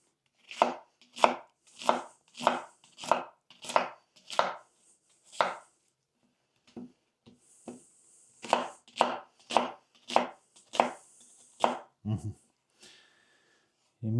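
A knife chops an onion on a cutting board for Armenian kebab, a close run of crisp, evenly spaced thuds, a pause, then another quick series of cuts, with light breathing between.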